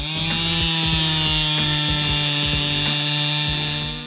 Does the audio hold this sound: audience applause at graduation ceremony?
no